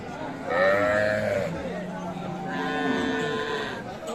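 Sahiwal cows and calves at a rural cattle market in Nabaganj, Dinajpur, lowing in two drawn-out moos, one then another, fairly close over market chatter and crowd noise.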